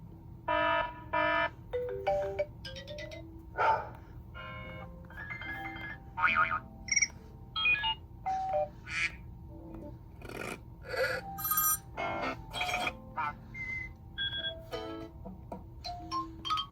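A sequence of short iPhone ringtones from iOS 6 plays one after another, bright chiming melodies and alert tones separated by brief pauses, with no talking.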